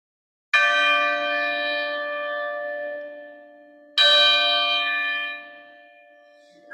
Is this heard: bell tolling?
yes